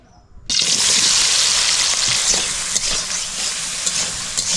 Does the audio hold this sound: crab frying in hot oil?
yes